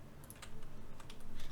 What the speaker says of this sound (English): hit 2 on the keyboard.